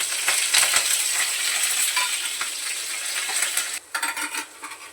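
Cumin, garlic and curry leaves hit hot oil in a pan with a loud, steady close sizzle that crackles throughout and briefly dips near the end, with no talking.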